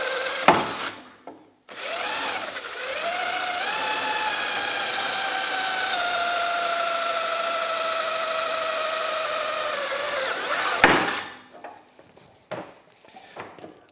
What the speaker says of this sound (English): Now I have some drilling to do.